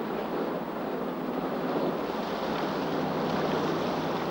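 Boat engines run on the open sea in the 1981 action film Green Ice, a steady droning rumble blended with wind and water wash, constant and unbroken with no talk.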